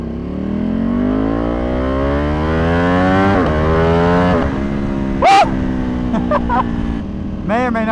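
A tuned Ducati Panigale V2 accelerates hard on a street, its engine note climbing loudly and steadily with rising pitch before a sharp shift and rev blips near the end, close to the microphone.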